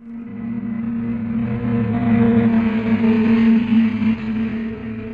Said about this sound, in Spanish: cuando vemos acercarse el coche, oímos un sonido cada vez más agudo. Cuando se aleja es cada vez más grave.